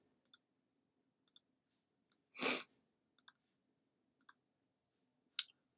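A computer mouse clicks in sharp, quiet single and double clicks spaced roughly a second apart in a silent room, with one short breathy exhale in the middle.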